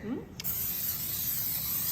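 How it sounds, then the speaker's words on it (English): Cooking spray hisses into a baking dish for a caramelized ham and Swiss sandwich bake, one short steady burst close by that follows a brief word from a speaker. "spray your baking dish with"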